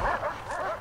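A guard dog in the prison game Prison Architect lets out a quick string of yipping, whining barks, fairly close and continuous, with no voices.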